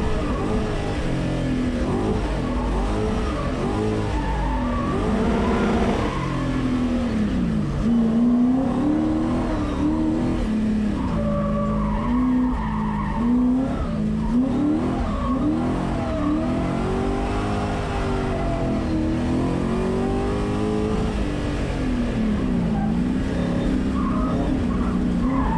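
A BMW E30 drift car slides and revs continuously, its engine note rising and falling in repeated sweeps as tyres squeal, loud and sustained throughout with no talking.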